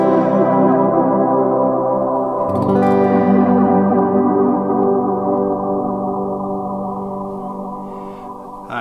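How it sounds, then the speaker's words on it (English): Guitar run through the dynamic flanger mode of a Meris LVX modular delay pedal, a dense sustained chord swirling with sweeping, whooshing comb-filter motion and echoes, a fresh strum midway, played loud and alone. "Dynamic flanger. This one gets kind of wacky."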